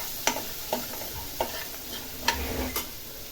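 Vegetables fry in oil with a pinch of asafoetida for a peas and cauliflower dry bhaji, a steady sizzle broken by five sharp spoon scrapes against the pan at a slow, even pace.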